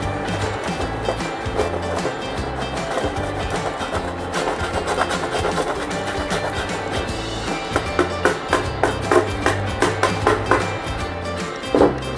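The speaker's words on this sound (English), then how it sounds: "Then grate the chocolate." Chocolate being grated, giving rhythmic rasping strokes that grow more distinct and evenly spaced toward the end, heard close under a soft music bed.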